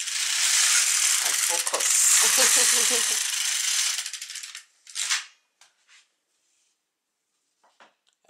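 An LK150 or K360 knitting machine carriage rattles and ratchets loudly for several seconds, followed by a few scattered clicks and taps in near silence, with a brief spoken phrase in between.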